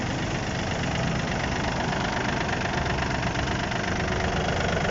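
A Yanmar F220 mini tractor with front loader and rotary tiller idles close by, its diesel engine giving a steady, even knocking rumble that stays loud and unchanging from start to finish, with no talk.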